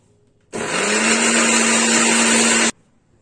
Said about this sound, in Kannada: ಇದನ್ನು ಮಿಕ್ಸಿ ಹಾಕಿ ನಾನು ಗ್ರೈಂಡ್ ಮಾಡ್ಕೊಂಡ್ಬಿಡ್ತೀನಿ